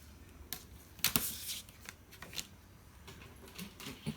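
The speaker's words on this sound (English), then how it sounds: "Then I'm going to cut that piece." Paper or card is cut into a narrow strip to reinforce the spine of a handmade junk journal, giving quick close rustling and crisp slicing sounds in a quiet room.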